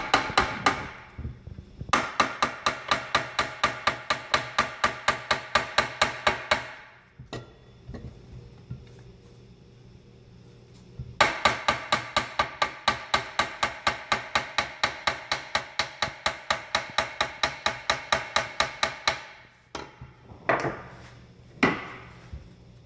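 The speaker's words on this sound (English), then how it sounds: "tap this dowel pin." A hammer taps a dowel pin into the PTO of an Oliver 2050 tractor in quick, even strikes, close and sharp, in two long runs separated by a pause, then a few last blows, with no talking.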